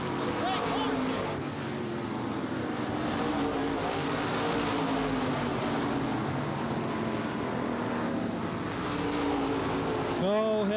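Modified race cars roar around the Baer Field Speedway oval in a steady, loud engine drone, engines rising and falling as they pass out of a turn and down the backstretch, with an announcer talking over the racing.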